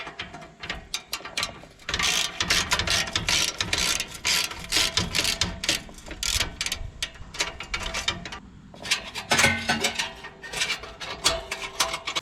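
Ratchet wrench loosening the heat shield clamps on a Can-Am X3 exhaust, with fast, close clicking bursts that stop and start in quick runs and brief pauses, and no one talking.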